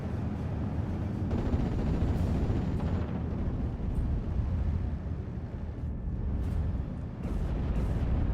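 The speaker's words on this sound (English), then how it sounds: "We got a Panzer Warfare barrage." Artillery barrage in Company of Heroes, a World War II real-time strategy game: a dense, continuous rumble of overlapping explosions and booms that runs steadily for the whole stretch, with no talk over it.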